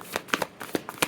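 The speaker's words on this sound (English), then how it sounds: "I've been shuffling for like 40 seconds." A tarot card deck being shuffled by hand, with soft, quick riffling and flapping of cards in short, uneven bursts, close and quiet, with no talking.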